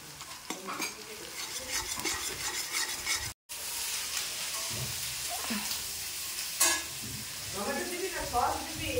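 Duck meat frying and being stirred in a wok at a New Year's Day picnic: steady loud sizzling with repeated scraping and stirring strokes, a brief gap, and occasional voices in the background.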